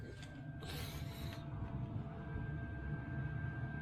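Handbrake on a Toyota MR2 project car, newly cabled to fresh brake calipers, is pulled up with a brief mechanical ratcheting burst under a steady low hum, then settles.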